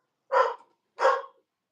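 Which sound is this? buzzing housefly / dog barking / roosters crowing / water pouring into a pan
dog barking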